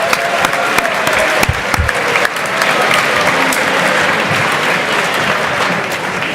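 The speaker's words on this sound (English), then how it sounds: "let's give these guys a round of applause" Audience at a college essay contest breaking into sustained applause, a dense, loud wash of clapping hands from a crowd that keeps going steadily without letting up.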